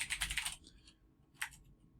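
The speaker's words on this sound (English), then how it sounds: "And then, you just start typing." Quick keystrokes rattle on a computer keyboard while typing up a resume, a short burst of clicks followed by a pause and one more brief cluster, close and quiet with no speech.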